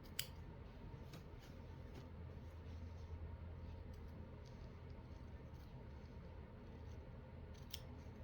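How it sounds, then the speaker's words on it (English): Small, very sharp scissors snip thread during hand stitching of a Victorian etui, giving a few faint, brief cuts over a steady low room hum. "Should have went and got a little bit bigger scissors, but these are so sharp"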